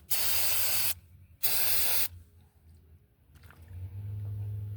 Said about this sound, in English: Try to spray it.